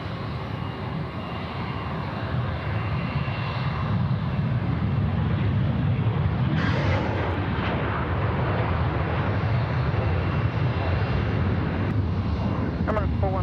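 Airliner at Sydney Airport rolling out along the runway after landing, a steady loud jet engine roar that swells partway through and holds, with people talking faintly over it.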